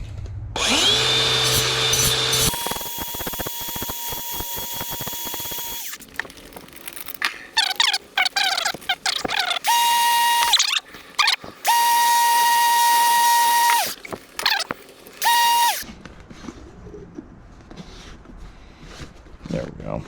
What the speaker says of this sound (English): Now, grinder.